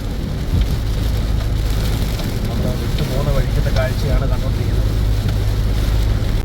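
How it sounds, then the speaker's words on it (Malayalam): Heavy monsoon rain pours down near the Gangavali river at Ankola, Karnataka, during a landslide search, a dense, steady hiss with a low droning engine hum underneath and brief faint voices in the middle. "ശക്തമായിട്ടുള്ള മഴ പെയ്തുകൊണ്ടിരിക്കുകയാണ്"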